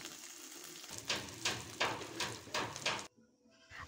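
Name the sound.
dried fish frying in a pan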